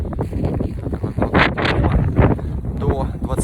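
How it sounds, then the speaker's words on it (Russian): Blizzard wind gusting across the tundra at Khatanga, roaring steadily with broad surges and buffeting against the microphone, loud and close throughout. "И ветер, порывы до 20-25 метров в секунду."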